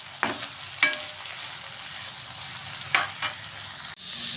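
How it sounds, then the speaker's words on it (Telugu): Eggplant pieces cook in oil in a pan, a soft low sizzle running underneath as a utensil stirs and scrapes with a few sharp clatters and knocks, near and moderately quiet, with no speech. "వంకాయ ముక్కలు ఆయిల్ వేసి మగ్గ పెడుతున్నానండి"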